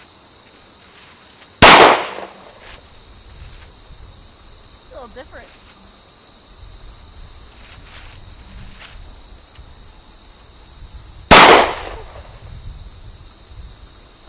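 Two sharp, loud FN-S rifle shots ring out about ten seconds apart on a shooting range, each a sudden blast with a short decay; a brief voice speaks in the quiet between them.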